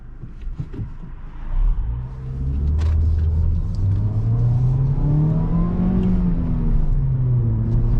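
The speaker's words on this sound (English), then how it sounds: "I blip the throttle because obviously if you blip the throttle, it makes it call like boom" A Ford Fiesta engine rumbles close by, then revs up with rising and falling throttle blips, a deep sustained roar.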